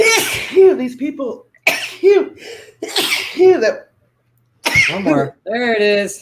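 Several sneezes come in quick succession at close range, loud and explosive with short gaps, and a person speaks briefly between them.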